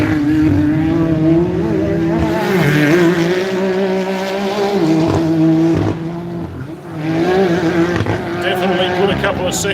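Race cars lapping a track, engines droning loud and sustained with shifting pitch as they pass, under steady commentary.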